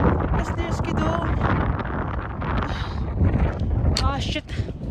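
Cold wind blows on a Slovak mountain hiking trail, buffeting the microphone in loud gusty rumbles while someone speaks over it.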